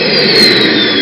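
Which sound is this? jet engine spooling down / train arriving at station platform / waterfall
jet engine spooling down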